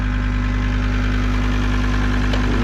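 A Volkswagen LT35 van engine with its check-engine light on runs at a loud, close, steady idle, a continuous low rumble with no voices.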